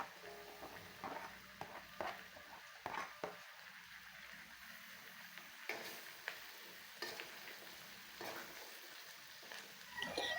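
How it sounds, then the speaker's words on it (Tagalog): Vegetables for pinakbet with shrimp, including string beans, bitter melon and okra, being stirred in a cooking pan, giving intermittent scraping clatters and light sizzling, close and fairly quiet. "At pagkatapos natin mailagay lahat ng gulay, haluin lang natin."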